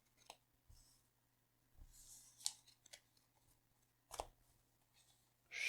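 Cards for the tabletop game SpaceShipped, published by Button Shy, are shuffled by hand, giving soft, close bursts of riffling and flicking separated by quiet pauses.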